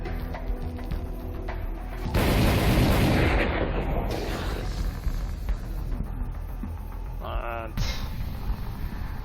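A burning volley attack in the zombie survival game Dead Age erupts as a burst of loud gunfire and explosive booms, followed by crackling impacts and scattered game effects.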